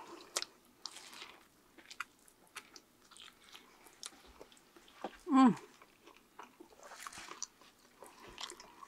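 Someone eats a roast beef Ortega sandwich, with soft, close chewing and biting sounds scattered through a quiet space and one brief louder vocal noise partway through.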